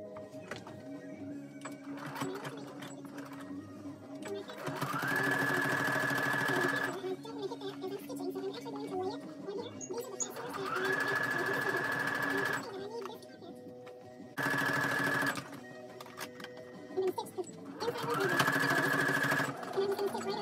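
Sewing machine top stitching a face mask made from a men's shirt runs in four bursts of fast whirring, with someone talking in between and over the stitching.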